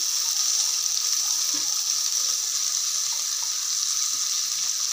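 Onions and tomatoes frying in hot oil for sambar rice give a steady, close sizzling hiss that holds evenly from start to end with no talking.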